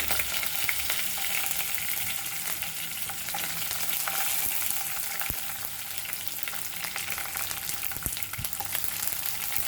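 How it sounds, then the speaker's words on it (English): Chopped garlic fries in hot spluttering oil seasoned with hing for a Goan cauliflower leaf bhaji, giving a steady dense sizzle with a few sharp pops and stirring scrapes, close and without any talk. "Once this gets splutter, we add our garlic."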